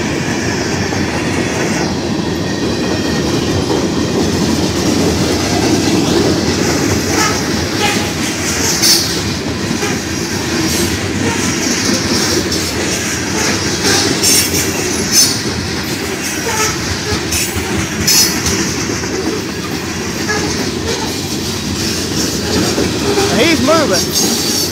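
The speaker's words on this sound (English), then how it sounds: "Freight train scheduled to go through here." Canadian National 2898, a freight train, rolls through Effingham, Illinois, with a loud continuous rumble of railcars, clickety-clack of the wheels and occasional squeals, nearby and steady throughout.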